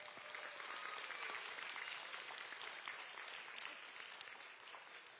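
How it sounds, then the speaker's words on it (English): Steady, dense applause from an audience at an Orange County student math bee, holding at a strong even level for about five seconds with no voices on top. "Please let's give them a round of applause."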